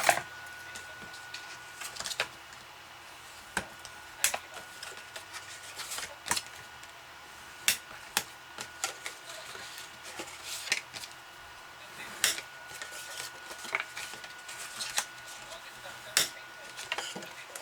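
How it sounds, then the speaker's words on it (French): Paper being creased by hand along scored fold lines while making a cardboard Ferrero chocolate gift box: sharp, dry clicks and scrapes at irregular intervals, close up and fairly quiet, with no voice over them. "On va venir marquer nos plis."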